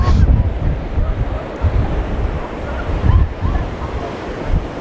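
Strong gusting wind buffets the microphone while waves surge and wash continuously on Bognor Regis beach, a loud, dense roar that never lets up.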